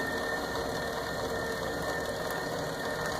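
Electric motor raising or lowering the head of a sawmill, a steady close whirring grind of gears with a fine ratcheting texture running continuously and without speech.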